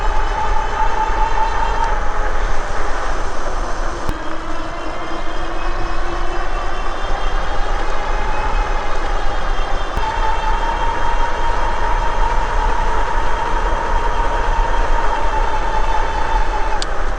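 Gogoal Panther F2 fat tire e-bike with 26x4 inch tires riding on throttle alone, a steady loud whine and rolling road noise with wind rush running continuously throughout, no speech.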